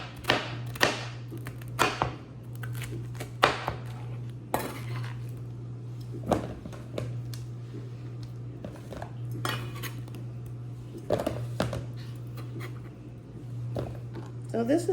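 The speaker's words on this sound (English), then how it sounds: "So this is basically how you cut up a pineapple." A knife cuts a pineapple into chunks on a hard surface, giving repeated sharp knocks and slicing scrapes at an uneven rhythm, close and fairly loud, with a steady low hum running underneath throughout.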